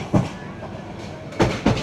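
A crowded Mahanagar Provati express between Dhaka and Chattogram rumbles steadily from inside a carriage, with a few distinct wheel clacks over the rail joints and passengers chattering around.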